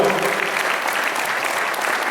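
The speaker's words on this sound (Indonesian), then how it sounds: "Tepuk tangan untuk kita semua." Brief burst of dense applause from an audience at a business seminar and halal bihalal gathering in a hotel, steady and fairly loud throughout.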